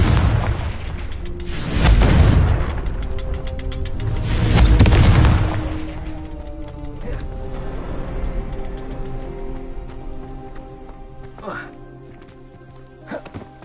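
Confringo blasting spells in Hogwarts Legacy land as two loud, rumbling booms a few seconds apart, followed by quieter crackling impacts and game sounds, with a voice calling out over the action.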